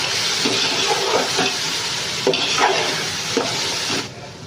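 Spices are stirred into biryani masala in a hot pan, a loud close sizzle and frying hiss broken by scraping strokes of the spoon, easing off at the end.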